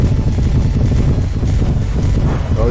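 A warship sails across open water in the Brawlership video game, a loud, steady rush of wind and wash that rolls on without a break and carries no speech.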